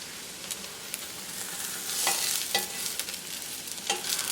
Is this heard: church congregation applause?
no